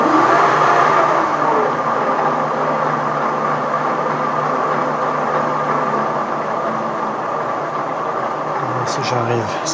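A Christen drill sharpening machine runs at 150 rpm, giving a steady, close mechanical whirring hum with a constant tonal drone that holds throughout, plus a faint, brief clatter near the end.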